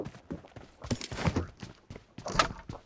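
Horse hooves clop in a video game, a quick run of hoofbeats, with a few louder bursts of sound landing over the steady footfalls.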